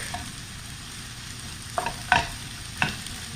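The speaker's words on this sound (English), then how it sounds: "we can actually add in the mushroom. So we're gonna let it cook" Mushrooms cooking in a pan with a low steady background and a few distinct scraping stir strokes near the end, close and fairly faint.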